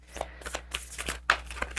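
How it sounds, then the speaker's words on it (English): Angel and ancestor oracle cards riffled and pulled from the deck at close range, giving a quick series of crisp flicking snaps over about two seconds, with no voices. "Now I want to pull some angel and ancestor cards."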